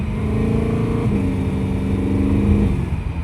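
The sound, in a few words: BMW E92 M3 DCT gearbox upshifts, engine revving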